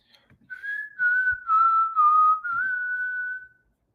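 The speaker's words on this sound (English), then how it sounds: "Sorry for whistling in the mic" A person whistles a single wavering, sustained tone close into a microphone, clear and loud for about three seconds, with no talk over it.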